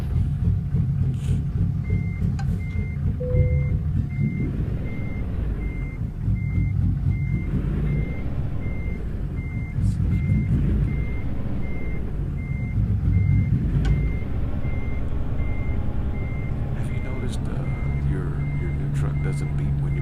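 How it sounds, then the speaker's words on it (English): A Kenworth truck's reversing alarm beeps in a regular, evenly spaced series over a rumbling diesel engine, with voices talking over it. "Does it beep when you back up? Yes, the Kenworth?"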